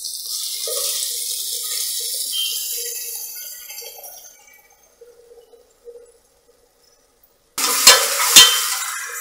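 A ground green paste frying with onions in a pan for green pea pulao gives a steady hiss that fades to near silence. Then a loud burst of sizzling and scraping comes as it is stirred.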